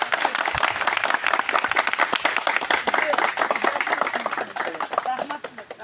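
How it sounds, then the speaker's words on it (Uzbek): A group claps loudly in a dense, steady burst that fades slightly toward the end, with voices mixed in. "Ofarin. Qarsak."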